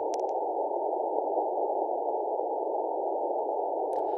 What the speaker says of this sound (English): I don't know if you hear that white noise in the background.